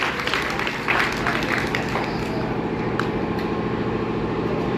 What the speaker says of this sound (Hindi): एक बार ताली बजाओ इनके लिए,